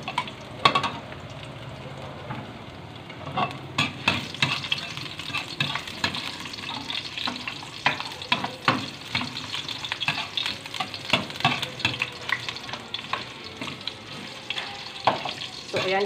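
Chopped garlic frying in a pan for a chicken feet adobo, a close, steady sizzle broken by frequent scraping and clacking of a utensil stirring it.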